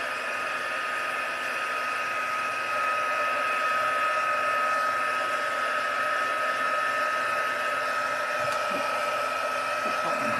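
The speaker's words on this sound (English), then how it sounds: "I'll just grab my heat tool and just quickly heat this to dry it" A heat tool blows hot air steadily to dry a craft project, a loud continuous whirring hiss with a constant pitched whine throughout, close and unbroken.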